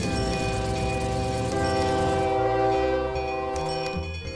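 Trains in the video game OpenTTD sound long horn blasts: steady, layered tones held for several seconds over a low rolling rumble of the rail traffic.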